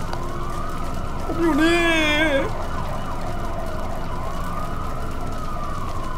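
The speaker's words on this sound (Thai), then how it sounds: "เสียงตำรวจ คุณตำรวจครับ" Police siren in the Roblox horror game The Hybrid, a wailing tone rising and falling for about a second over steady in-game ambience, with someone speaking over it.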